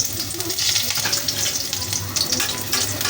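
Ginger sizzling as it drops into hot cooking oil in a home kitchen pan, a steady bright crackle and hiss that holds close and fairly loud for a few seconds, with a faint low hum underneath.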